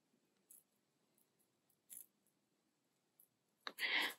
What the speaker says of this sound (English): Now you're just going to trim the excess off with some scissors.